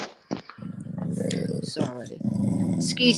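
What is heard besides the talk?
dog growling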